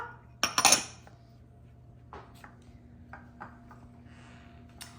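A spoon clinks briskly against a bowl while almond flour, coconut sugar and baking powder are mixed, with a cluster of sharp metallic scrapes at the start and quieter scattered taps after.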